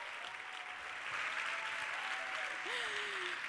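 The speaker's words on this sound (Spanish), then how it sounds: "demos un fuerte aplauso a Judith Murlà" A science communication contest audience claps steadily for a speaker, a sustained wash of applause swelling slightly after the first second, with a faint tonal whistle or voice drifting over it near the end.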